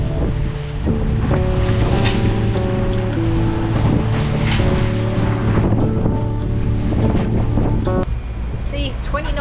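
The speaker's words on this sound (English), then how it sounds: "These 20-knot winds and pounding into the waves is not fun at all." A sailboat pounds into waves in strong 20-knot winds, with continuous loud wind rumble, water rushing against the hull and rigging noise close by, steady throughout.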